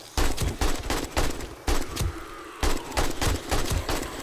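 Automatic turret gunfire in the video game 7 Days to Die during a night horde attack, a rapid series of sharp shots in quick bursts separated by brief pauses, loud and close with no talking.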